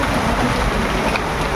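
Heavy rain and strong wind make a steady, loud, unbroken roar that fills the whole moment close to the microphone, with no voices.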